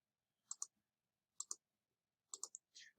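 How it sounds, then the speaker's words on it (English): Computer mouse buttons click in double pairs while working in Ansys, crisp and close in a quiet room, with a short pause between each pair. "so you're going to have to click on that region twice"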